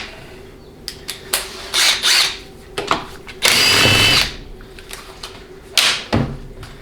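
A power tool spins out an 8mm bolt from a 700R4 transmission in a series of short whirring bursts, one longer, mixed with metallic clinks and handling noises close by.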